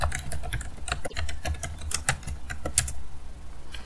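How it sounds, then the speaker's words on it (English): A username is typed on a computer keyboard, with rapid, close, crisp key clicks in a steady burst that thins out near the end, and no talking. "type my username"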